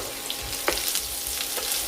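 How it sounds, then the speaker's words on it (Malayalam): Mustard seeds, curry leaves and dried red chillies frying in hot coconut oil give off a steady, close sizzle, broken by a few sharp spluttering pops. "കടുക് പൊട്ടി അതിലേക്ക് കറിവേപ്പിലയും വറ്റൽമുളകും ചേർക്കാം."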